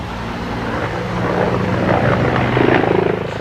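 Agusta Mangusta attack helicopter powered by twin Rolls-Royce GEM engines flying past at an air show, a loud, dense rotor and turbine roar that swells toward the end.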